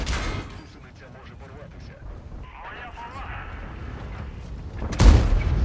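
A tank cannon fires in an online tank battle game, one sharp heavy boom near the end after quieter engine rumble and mechanical sounds, with someone talking over the gameplay.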